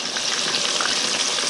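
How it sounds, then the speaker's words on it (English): Small bream and crappie fry in hot grease over high heat, a steady, dense crackling sizzle with fine popping bubbles, close and continuous without voices. "And the grease are frying,"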